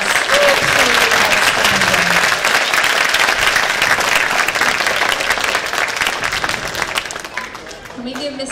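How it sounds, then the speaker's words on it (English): Dense, sustained audience applause at an elementary school spring concert, loud and steady for several seconds before tapering near the end, with faint voices mixed in. "Can we give them another round of applause?"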